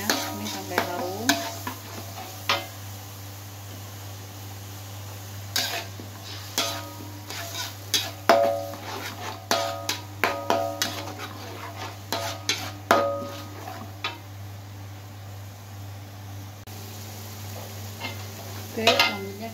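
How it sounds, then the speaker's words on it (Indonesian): Blended spice paste for spicy sambal tofu stir-fried in hot oil, a soft steady sizzle under repeated sharp clinks and scrapes of a spatula against the pan, coming in irregular bursts. "setelah minyak panas kita masukkan bumbu-bumbu yang dari blender tadi. Kita tumis sampai menghilangkan bau langunya."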